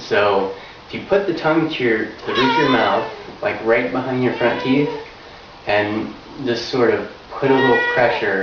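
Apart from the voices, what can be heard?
cat meowing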